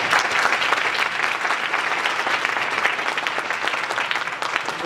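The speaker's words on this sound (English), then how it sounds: "let's give our panelists a round of applause." An audience at a games journalism panel claps for the panelists, a loud, dense and continuous burst of applause that holds steady throughout.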